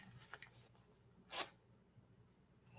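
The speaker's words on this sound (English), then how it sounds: "That is the sound of my zipper going down." A clothing zipper is pulled down in two quick, faint rasping strokes close to the microphone, the second one longer and louder, against quiet background hiss.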